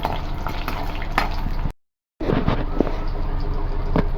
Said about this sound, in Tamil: இப்போ வந்து இது கூடவே பூண்டு, இஞ்சி, ஒரு பச்சை மிளகாய் போட்டு நல்லா ஃப்ரை பண்ணிக்கலாம்